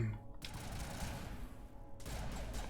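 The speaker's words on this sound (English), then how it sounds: "What exactly are they shooting at?" Rapid bursts of gunfire from the Mass Effect Legendary Edition game, faint and distant-sounding, crackling in quick volleys with short gaps between them.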